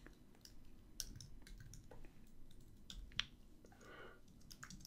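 Light tapping on a computer keyboard, a quiet, irregular patter of keystrokes with a couple of sharper clicks, heard close and alone.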